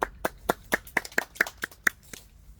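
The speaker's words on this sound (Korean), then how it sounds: "박수 한번 치시죠" About ten sharp, evenly spaced handclaps ring out at a grape-farming talk on Gyeongsan Shine Muscat cultivation. The claps are quiet and sparse, like a small audience, with no talk over them.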